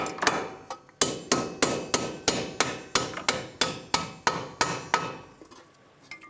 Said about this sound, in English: You can gently tap the bolt through.